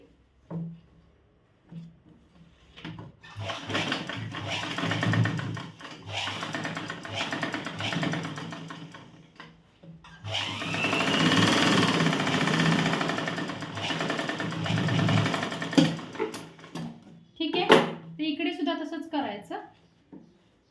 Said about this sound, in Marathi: इथे एक टिप मारून घ्यायची